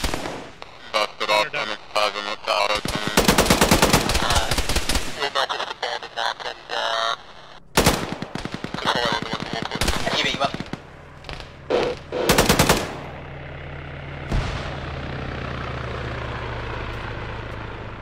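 Machine gun fire from a gunner mounted on a technical in a video game: long, loud rattling bursts broken by pauses and sharp single cracks, with radio-style talk heard between the volleys.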